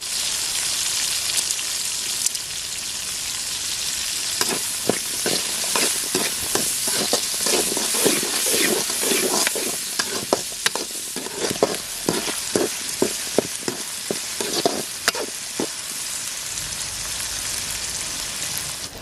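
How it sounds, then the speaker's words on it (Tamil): Shallots and garlic sautéing in hot oil for a Tamil fish curry (meen kulambu), a loud continuous sizzle broken by sharp, rhythmic scrapes of a spoon stirring the pan, with no one speaking. "ஒரு 100 கிராம் பூண்டு தோல் உரித்து வச்சுருக்கேன், அதையும் அது கூட போட்டு நல்லா வதங்கட்டும்."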